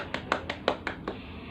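A small group of students in a classroom gives a brief round of applause for a presenting group, heard as about six sharp claps in an uneven rhythm over faint room noise.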